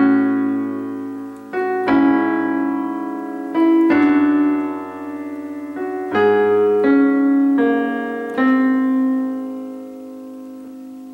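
Solo piano plays part 5 of a song from Over the Garden Wall, a slow, simple sequence of sustained chords struck every couple of seconds and left ringing, clear and close with no voices.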